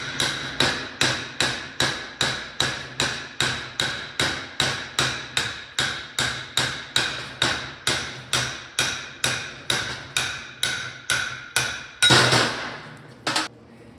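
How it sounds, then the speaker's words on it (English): A hammer taps steadily around the back of a ring gear on a 14 bolt differential during a regear, about two dozen sharp metallic strikes in even rhythm, close and loud, ending in a brief clatter. "Just tap around the back of the ring gear and it'll slide it down."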